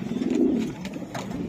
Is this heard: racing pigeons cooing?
yes